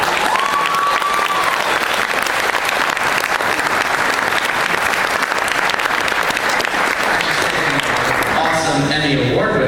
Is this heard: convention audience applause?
yes